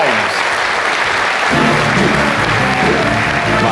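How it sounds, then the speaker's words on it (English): Audience applause greeting Clive James at the Variety Club Awards, a loud steady crowd roar of clapping that swells fuller partway through, with voices and music blended underneath. "Let's give a nice friendly round of applause to an up-and-coming kid in this business."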